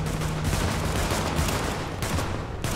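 Continuous, heavy gunfire from an extraction shooter game fills the clip, a dense crackle of overlapping shots at moderate loudness with a brief dip near the end.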